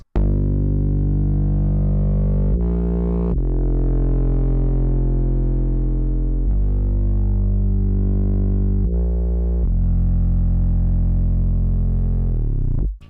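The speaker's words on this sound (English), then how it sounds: "I started with this sub bass that would be used for the intro of the beat" Deep, sustained sub bass notes glide through a slow melody, long held tones changing pitch every few seconds, heavy and smooth with no voices.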